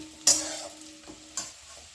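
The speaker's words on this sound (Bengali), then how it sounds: "আর একটু ভেজে নেব" Cauliflower frying in a pan as it is stirred with a utensil, two distinct scraping stirs about a second apart over a low, steady sizzle, close and with no talk.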